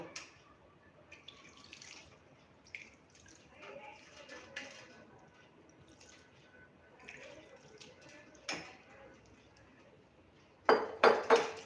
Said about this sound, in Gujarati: આપણે 2 થી 3 પાણીએ પૌવાને ધોશું તો આપણા પૌવા એકદમ સરસ ચોખ્ખા થઈ જશે